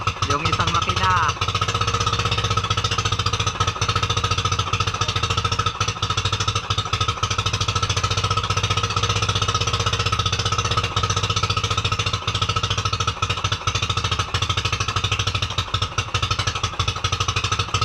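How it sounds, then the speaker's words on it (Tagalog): A faulty fishing boat engine on a tuna fishing trip runs roughly at sea, a loud, steady clattering drone that carries on without a break, with voices talking over it. "Nagloloko yung makina namin, nagloloko yung isa."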